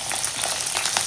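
Onions, green chillies and curry leaves sizzle steadily in hot oil in a pan for a chicken curry masala, a close, continuous frying crackle with no voices.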